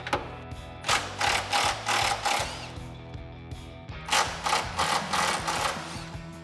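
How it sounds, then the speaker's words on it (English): Cordless impact wrench with a 15mm socket zipping out two factory 15mm bolts on a 2015-2020 Mustang fastback, two clusters of rapid hammering bursts, close and fairly loud, separated by a pause. "we have to remove these 2 15mm bolts using, again, our 15mm socket and cordless impact"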